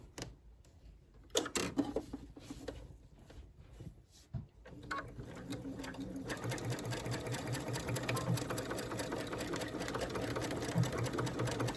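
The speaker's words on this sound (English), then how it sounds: "So then what you're going to do is you're going to sew this." A sewing machine stitching a dog collar or leash, starting with a few separate clicks and thumps, then running in a steady, close, continuous whir of rapid stitching for the last six seconds.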